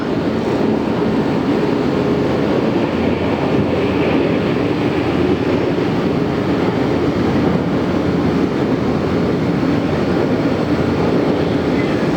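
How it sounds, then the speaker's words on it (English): A Delta Airlines Boeing 757-200 inbound from Mexico City lands at LAX, giving a loud, steady, broad roar that fills the whole stretch without a break. No one speaks. "Delta 630 inbound from Mexico City. In an OG Delta Airlines 757-200."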